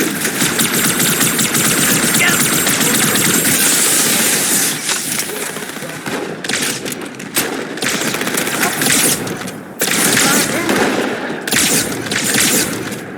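Loud, sustained automatic gunfire in Halo 2 Anniversary, a dense crackling fusillade that runs almost nonstop and then breaks into choppier bursts, with a hissing wash beneath.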